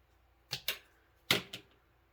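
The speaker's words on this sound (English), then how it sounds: "I would just snip this right here." Scissors snip through tassel braid in four crisp, close cuts that come as two pairs of quick snaps.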